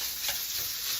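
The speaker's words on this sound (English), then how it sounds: "Our pan is heated up, and our sausage is cooking." Sweet Italian sausage fries in bacon fat in a hot pan, giving a steady, faint sizzle.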